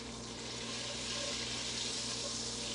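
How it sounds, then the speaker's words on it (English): Butter melting in a pan for a copycat Panera broccoli and cheese soup gives off a steady, even sizzle, a soft continuous hiss close by with a low hum underneath and no talk. "So we've got our butter. You can kind of hear it. It's starting to sizzle."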